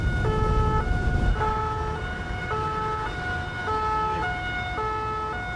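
A French gendarmerie police car siren wails in a repeating two-tone pattern, loud and close, over the roar of road and engine noise while vehicles travel at high speed.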